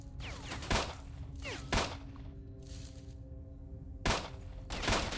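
Several loud bursts of gunfire in the video game S.T.A.L.K.E.R.: Shadow of Chernobyl crack out at irregular intervals, with short gaps of quieter background noise between shots.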